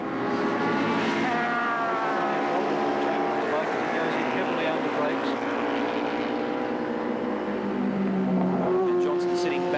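Racing motorcycles from the 1983 Arai 500 at Bathurst, bikes hitting about 230–240 km/h down Conrod Straight, give a loud sustained high engine whine throughout, shifting pitch as they pass, under continuous commentary.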